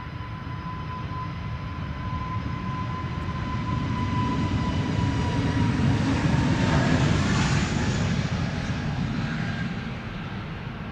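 An EasyJet airliner departs Amsterdam Schiphol Airport with a steady, moderately loud engine roar and a sustained whine that swells toward the middle and eases slightly near the end, with no voices.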